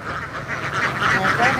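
Ducks quacking continuously as a dense, overlapping chorus, close and fairly loud, at a waterside duck-rearing spot in rural Vietnam where a boy tends a flock.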